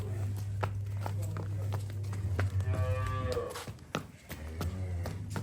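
A buffalo lets out a long, low moo close by, over a steady low hum and scattered light taps.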